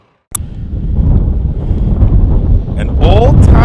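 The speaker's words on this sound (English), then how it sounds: "on a very windy day" Strong wind buffeting the microphone on a very windy day at an old ghost town in Fargo, North Dakota, a loud continuous roar starting abruptly and holding steady, with a voice briefly heard near the end.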